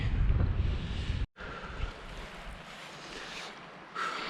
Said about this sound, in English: The wind out here is hellacious